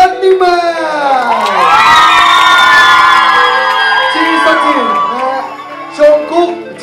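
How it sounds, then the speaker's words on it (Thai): A large crowd at a Running Man press event cheers, whoops and shouts loudly, with children's high shrieks rising above the din; the roar swells, holds for several seconds and then fades. "ขอเสียงปรบมือครับให้กับ5เมมเบอร์จากRunning Man"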